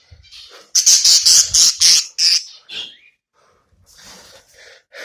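Captive lovebird squawking loudly while held in a hand indoors, a rapid series of harsh, close cries for about two seconds, then a few fainter calls and rustling.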